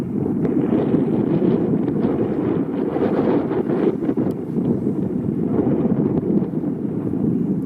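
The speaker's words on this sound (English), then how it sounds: "listen to the wind" Strong winter wind blows across a snowy outdoor field during fly casting practice, a steady, loud roar of gusts buffeting the microphone that continues throughout.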